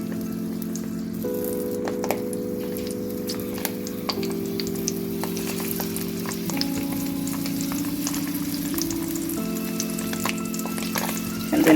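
Bratwurst sausages sizzle in a pan, browning on the underside, with a constant crackling fry and a few small pops, close and steady, while music plays underneath.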